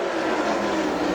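A super late model race car at Dixie Speedway powers off a corner, its engine a loud, steady, close roar with no break.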